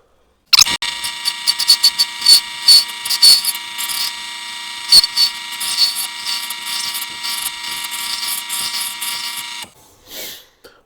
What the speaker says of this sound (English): So we'll try put a slight taper in it.